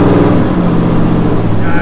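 A custom twin-turbo 1964 Ford Galaxie making over 1,000 hp rumbles loudly at close range with a deep, steady engine drone throughout.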